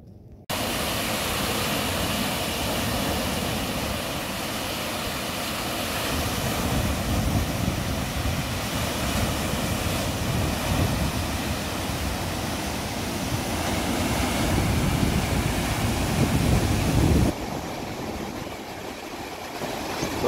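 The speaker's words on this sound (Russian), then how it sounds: "Придется как-то отходить в такие волны." Storm waves and wind on the Lake Baikal shore, a continuous loud roar of surf and gusting air that holds steady for most of the stretch before easing near the end.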